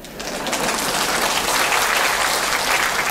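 Audience applause swells up quickly after a brief quiet start, then holds as a steady, dense wash of clapping from a large crowd without talk.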